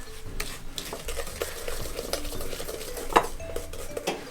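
A utensil scrapes and clinks against a hot pan while a sesame cookie mixture is stirred, with repeated close metallic taps and scrapes over a faint sizzle and one sharper clank near the end.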